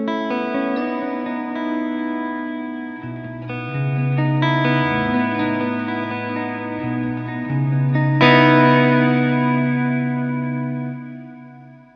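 Sustained electric guitar chords and bass notes wash through stereo reverb from TheGigRig G3, with long ringing decays and a brighter strum near the end, played alone without voices.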